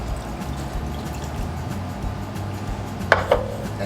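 Three cups of cold water pour steadily into a pressure cooker with kidney beans and pork neck bones, a continuous splashing rush ending in two sharp metallic clinks near the end.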